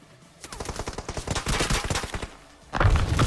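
A DP-28 machine gun fires in PUBG, loud rapid bursts of sharp shots close by, followed after a brief pause by a heavier, booming burst.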